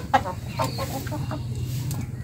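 Roosters cluck in short, scattered bursts over low background noise while pecking at cockroaches on a farm.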